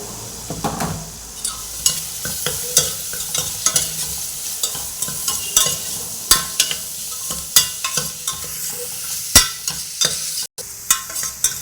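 Beetroot frying in a pan for a masala curry, stirred with a utensil that scrapes and clinks against the metal in repeated sharp strokes over a soft, continuous sizzle, close and unaccompanied by speech.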